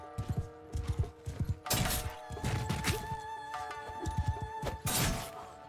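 Horse hooves pound in a steady gallop in the Bannerlord Shokuho feudal Japan mod, mixed with loud impacts, clashes and battle noise; a voice briefly speaks over the busy combat.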